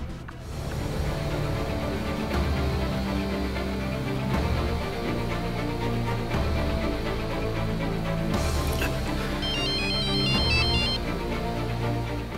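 A mobile phone ringtone plays on and on, a bright repeating electronic melody that stays loud and steady with no talk over it.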